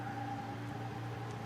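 Andrei Astapov's drift car, which has had steering trouble, gives off a steady, faint high whistling tone over a low rumble during rainy RDS GP 2025 qualifying at Igora Drive.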